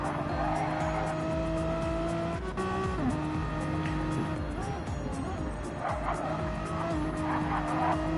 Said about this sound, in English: You can hear the Renault, that choking in the top speeds as it's got damage to the front bumper